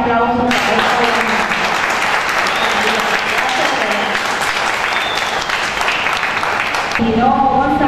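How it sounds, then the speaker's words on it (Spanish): An audience at a public talk on food sovereignty claps in a dense, sustained burst of applause that fills most of the stretch, with a voice speaking briefly just before it swells and again as it fades. "yo de nuevo les pido por favor un gran aplauso a esta leona"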